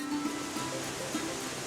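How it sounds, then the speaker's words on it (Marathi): A waterfall near the Kaas plateau in Satara makes a steady, even rush of falling water in a brief, continuous burst with no voices over it. "कास पठारासाठी प्रसिद्ध असणाऱ्या साताऱ्याची ओळख म्हणजे हा धबधबा होय"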